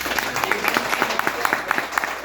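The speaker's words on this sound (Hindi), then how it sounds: "एक बार जोरदार ताली से स्वागत करें" Loud applause from a meeting audience welcoming a guest to the stage in Ranchi, Jharkhand, steady dense clapping with sharp individual claps throughout, close and unbroken.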